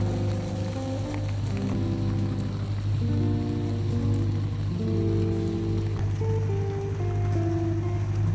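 Rain patters steadily on an anchored sailboat beneath cliffs in the Canary Islands, a soft continuous hiss over a low hum, with faint creaks and tones from the boat.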